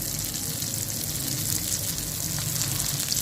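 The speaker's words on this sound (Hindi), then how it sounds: "चलो फ्राई होती जाए।" Matar aloo tikki frying in a pan, a steady close hiss and crackle of hot oil that stays even throughout, with no talking.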